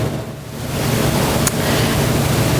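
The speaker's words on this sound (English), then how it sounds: "As you can see, the water is now draining from the plant." Irrigation water draining from a potted plant into a receptacle, a steady close trickling wash that holds evenly throughout with no voices.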